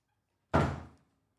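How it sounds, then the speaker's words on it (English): A door swings shut with a single solid thunk, fairly close and loud, decaying quickly into silence with no talk around it. "Close the door, baby."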